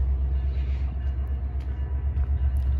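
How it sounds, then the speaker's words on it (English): A stopped train idles near railway tracks in a part of town full of rail lines, giving off a steady, deep low rumble that runs unbroken throughout, with no voices. "There's a train stopped up there."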